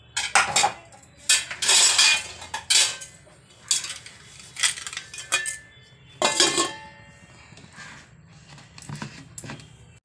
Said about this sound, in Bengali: তো এখন চালের গুঁড়ো গুলছে।